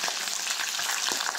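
Close, steady sizzling and crackling of fish frying in hot oil, with occasional louder pops, while vegetables are cooked.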